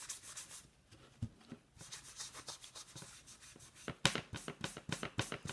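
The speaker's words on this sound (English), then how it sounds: "So I'm just going to wax this up a little bit." Chalk Couture wax is rubbed onto a craft piece in short, soft, scratchy strokes, repeated in a quick rhythm close to the microphone, with brief pauses between passes.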